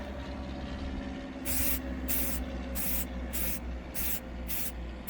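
Bursts of hissing aerosol spray come in short repeated pulses, about seven of them, over a low steady background rumble.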